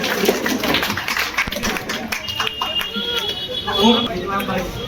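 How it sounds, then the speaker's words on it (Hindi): A crowd at a farmers' union political gathering claps to welcome a new member, scattered sharp hand claps that keep going under a man's loud speech and background voices. "जोरदार ताली से स्वागत कीजिए जावेद भाई का।"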